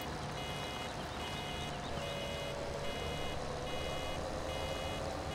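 Fendt 700 tractor engine in the Farming Simulator 2017 video game, a steady droning engine hum with a faint repeating electronic beep pattern layered over it, constant and unbroken throughout.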